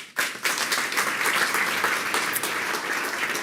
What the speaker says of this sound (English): Please give Adrian a warm applause.